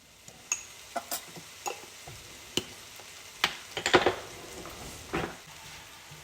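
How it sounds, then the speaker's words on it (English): Onions and peppers sautéing for Philly cheesesteaks and tossed in a pan: a faint sizzle under sharp, irregular clanks and rattles of the food and utensil against the pan, close by. "Give it a quick toss just to make sure you're getting the seasoning on all of the onions and peppers."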